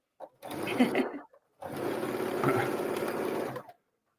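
Multi-needle embroidery machine running in two bursts, a steady rapid mechanical chatter, the first short and the second longer, with a brief pause between.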